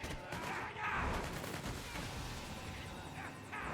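Dense, steady video-game gunfire, a continuous volley of rapid shots at moderate loudness with a voice talking faintly beneath.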